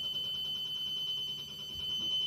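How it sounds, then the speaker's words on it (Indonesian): A steady electronic alarm tone rings continuously at moderate volume at a barrier gate that fails to close, with a faint background hum and no speech. "Terlihat dan terdengar di sini bahwa alarm berbunyi dan palang tidak menutup"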